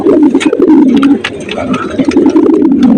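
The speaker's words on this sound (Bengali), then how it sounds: "কবুতরটা খুবই ভালো" Pigeons cooing loudly and close by, repeated low throaty coos in a steady rhythm, with soft wing and movement sounds mixed in.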